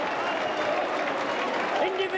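Rugby league crowd at Knowsley Road cheering and roaring steadily at a 1988 St Helens versus Leeds match, a broad, loud wash of noise held throughout, with commentary voices talking over it.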